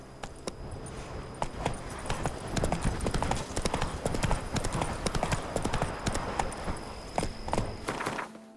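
Roach, a horse in The Witcher 3 video game, clip-clops along at a steady walking pace, hoof strikes close and clear over a soft ambient game background, with no voices.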